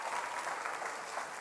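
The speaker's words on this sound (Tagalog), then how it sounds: "Ayun, may pumapalakpak, may isa." Steady applause from a crowd, dense continuous clapping at even loudness throughout, with no voices over it.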